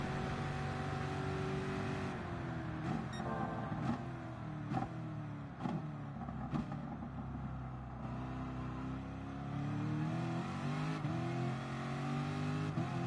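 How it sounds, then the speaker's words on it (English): A race car engine in Gran Turismo Sport revs and climbs through gears with steady whining tone and brief shifts, heard continuously without speech. "God, I love the way this car sounds, Tony. It just purrs my name."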